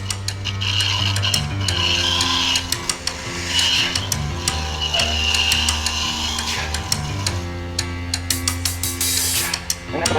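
Wood lathe spinning at its top belt setting of 1650 RPM, a steady mechanical whir with a low motor hum and rapid clicking, ticking overtones throughout, close and moderately loud.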